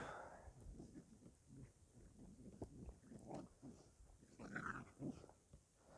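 Two Border Collies growl and scuffle in a play fight, snarls and snapping rising and falling close by for several seconds, with a louder burst near the end.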